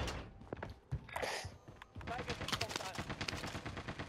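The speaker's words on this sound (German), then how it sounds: "Ein Geschütz schießt auch immer auf irgendwas und trifft da irgendjemanden." Gun turret in the Rebirth video game fires a rapid, rattling stream of shots, dense and continuous through most of the stretch with metallic thunks, fairly quiet overall and with voices talking over it.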